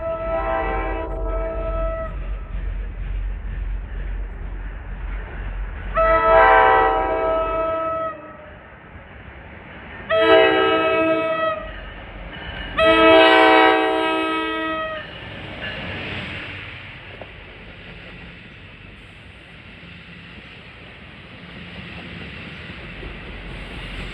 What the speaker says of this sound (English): I don't like the looks of that locomotive, but the horn sounds good.